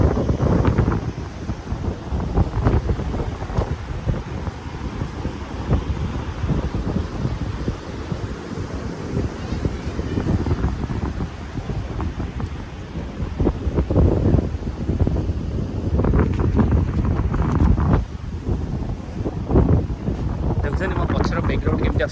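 Gusty wind buffeting the microphone on a seashore during a beach picnic, with a low rumbling roar of surf beneath, continuous and close, swelling in strong gusts.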